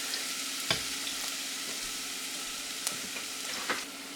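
Celery and onions frying in a tablespoon of coconut oil over medium-high flame, a steady close sizzle with a few sharp stirring clicks and clatters.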